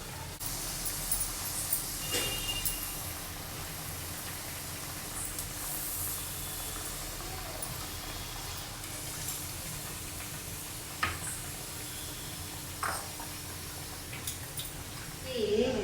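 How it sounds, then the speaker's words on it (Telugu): Millet burelu, sweet dumplings, frying in hot oil, a quiet steady hiss and crackle with occasional louder pops and spatters throughout. "ఇప్పుడు నూనె బాగా కాగింది నేను ఈ అప్పన్ని నూనెలో వేస్తున్నాను బూరెని"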